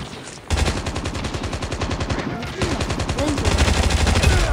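Rapid, rhythmic M4 rifle bursts fire nearly continuously in a Call of Duty: Front Line firefight, loud and close, with a brief pause midway and faint game sounds underneath.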